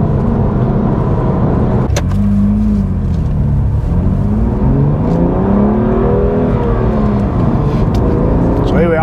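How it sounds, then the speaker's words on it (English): BMW M2 Competition with a manual gearbox, its engine droning loudly from inside the cabin, rising in pitch through the gears with a sharp click near the start, while someone talks over it. "Here we are in the manual M2 competition, and pretty much the first few seconds of me driving this car"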